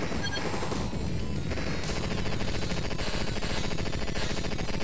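Nonstop rapid machine-gun fire from the 1991 Midway Terminator 2: Judgment Day arcade cabinet, a dense, loud, steady rattle of shots and crunching impacts with no voices.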